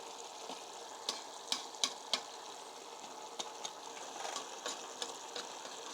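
A spoon scrapes and stirs through matar pulao in a bubbling pot, sharp clinks and scrapes standing out over a soft steady simmer, fairly quiet with no one talking.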